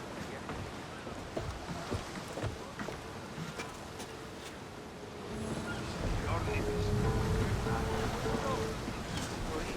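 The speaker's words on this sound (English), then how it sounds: "In position for sailing!" A sailing ship at sea in Assassin's Creed Odyssey: a constant rush of wind and waves, growing fuller and louder partway through, with low rumbling and faint voices under the ocean noise.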